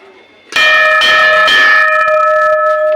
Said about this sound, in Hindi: एक बार मैं घंटी बजा लूँ जरा यहाँ पर